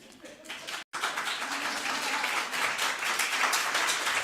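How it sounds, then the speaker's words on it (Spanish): An audience applauds a speaker at a cultural participation forum: after a brief murmur and a momentary cut, a steady wash of many hands clapping swells and holds, fairly distant and even. "No me aplaudan porque me lo voy a creer."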